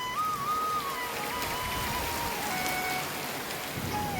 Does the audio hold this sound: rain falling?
yes